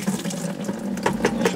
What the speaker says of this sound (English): going to try and drain the water out of this